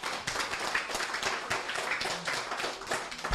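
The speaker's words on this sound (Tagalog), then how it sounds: "So, pumalakpak po yung pinagpala." Church congregation clapping together during a worship service, a steady dense patter of many hands sustained throughout at moderate level.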